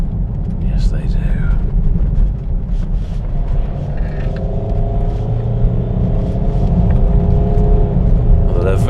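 A Mercedes ML's engine under hard, full-throttle acceleration: a loud, steady low rumble and rising drone, with faint voices murmuring over it.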